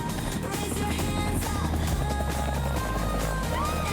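A helicopter sound effect plays with a continuous rotor chop and engine drone, fairly loud and steady, with faint background noises mixed in.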